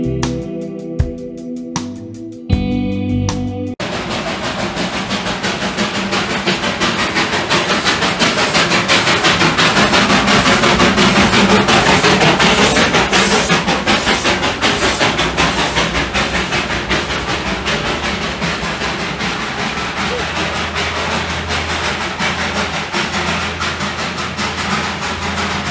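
A Darjeeling toy train hauled by diesel and steam engines passes close by, a loud sustained rumble with hissing and rhythmic clatter after a few brief clicks at the start.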